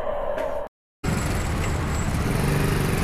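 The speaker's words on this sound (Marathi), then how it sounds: "इतकी ट्रॅफिक आहे की 5 मिनटाच्या रस्त्याला अर्धा तास लागला." Road traffic, steady and close, with engines humming and a continuous roar of passing vehicles; the sound briefly cuts out before resuming.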